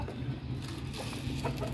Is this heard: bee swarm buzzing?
no